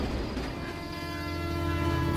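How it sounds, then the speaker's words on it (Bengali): A train rolls into Pratappur station at two in the night in an animated horror story, a steady loud rumble of rail cars with a sustained horn-like tone running throughout. "ট্রেনটা প্রতাপপুর স্টেশনে এসে দাঁড়ায়"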